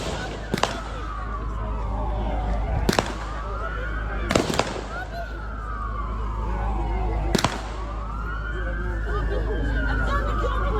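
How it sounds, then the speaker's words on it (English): Gunfire exchanged between gunmen and police during a mass shooting at Bondi Beach: four loud, sharp shots spaced a second or more apart, heard over a wailing police siren that rises and falls. "The gunmen and police briefly exchange fire."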